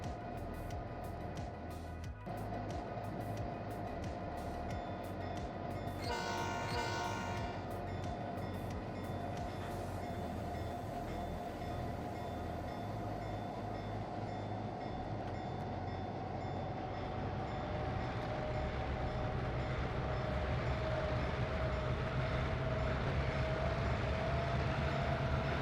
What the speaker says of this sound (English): we're going to see just how tough it can be for this locomotive to get started